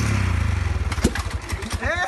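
A motorcycle engine revs nearby in a wild street-racing scene, a loud pulsing throb that rises in pitch, with people talking over it toward the end.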